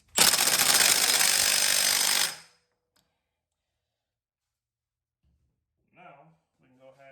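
Impact wrench run on a Harley Davidson Vulcan chain drive kit, one loud harsh rattling burst of about two seconds that cuts off abruptly, followed by silence and then someone talking.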